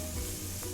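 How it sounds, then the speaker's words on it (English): Chili powder and Malwani masala sautéing in a pan give a brief, close sizzle with a faint stirring scrape. "I'm just going to saute this masala all together"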